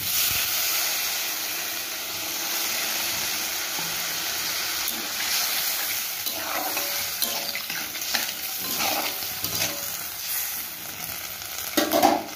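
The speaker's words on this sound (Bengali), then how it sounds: "এবার আমি জল দিয়ে দিচ্ছি।" Potatoes and pumpkin sizzle and hiss steadily in a pan as water goes in for a vegetarian curry, with occasional stirring clicks and no voices.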